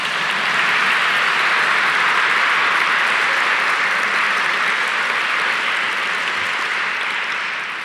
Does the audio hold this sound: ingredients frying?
no